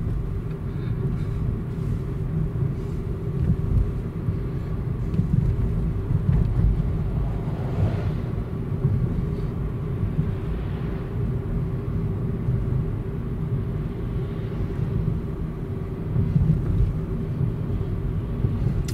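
A Nissan Leaf electric car gliding slightly downhill, giving a steady low rumble of tyre and road noise with a faint hum, continuous and even throughout with no voices.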